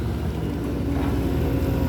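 A steady, loud diesel drone comes from a 22-ton XCMG XE215C excavator with an Isuzu 6BG1T engine, working close by while digging mud at a reservoir in the rain.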